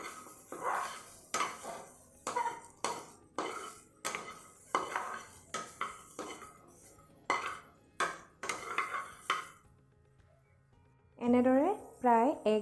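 Raw mango chutney being stirred in a pan over a low gas flame, giving repeated scraping and clinking strokes of a utensil against the metal with a faint sizzle between them, followed by a brief louder ringing clatter at the end.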